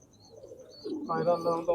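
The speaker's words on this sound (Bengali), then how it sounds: "মিলন ভাই এমনিতে ট্রিটমেন্টে রাখে পায়রা সবসময়।" Pigeons coo softly and closely, a low burbling call that swells toward the end over faint background chirps.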